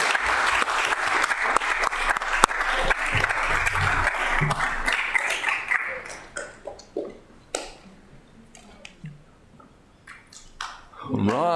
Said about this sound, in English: And can we give Raina a round of applause?